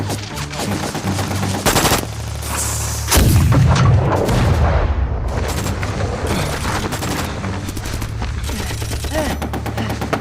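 Heavy gunfire in a war-film ambush: dense bursts of rifle and machine-gun shots with deep booming blasts, loud and close, and a voice briefly shouting among the shots.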